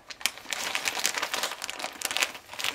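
Paper sewing pattern pieces folded and slipped back into their envelope, making close, continuous crinkling and rustling with a few sharper crackles.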